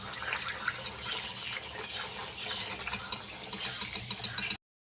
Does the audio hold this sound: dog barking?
no